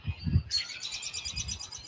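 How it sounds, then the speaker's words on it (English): Many birds chirp and tweet rapidly in a dense, continuous outdoor chorus at sunset during a total solar eclipse, starting after a brief low rustle and carrying on steadily at moderate loudness. "These birds have been going absolutely nuts."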